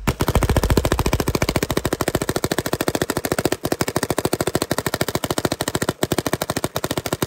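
A 2008 Alien Independence paintball marker fires uncapped in a long, rapid, steady string of sharp shots, loud and close, with a brief pause or two in the rhythm.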